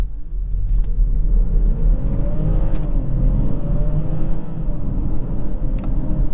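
A 2021 BMW X5 45e plug-in hybrid accelerates hard to 60 using combined electric and petrol power, its engine a loud, rising rumble with audible gear changes and tire and wind noise, close and continuous.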